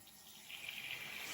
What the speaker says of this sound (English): I'm gonna take some water and I'm gonna add it to it